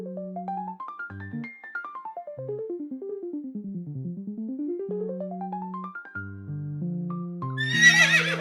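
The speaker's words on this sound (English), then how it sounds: "In English, we say horse." A horse neighs in a long whinny that rises and falls in pitch against a simple background melody, ending with a short snort, with no voices.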